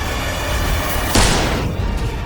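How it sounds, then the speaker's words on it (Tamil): Gunshot sound effect in a Tamil audio drama: a single sharp blast partway through that cuts through a dense, loud background bed and then decays quickly. "துப்பாக்கி சத்தம் கேட்டு"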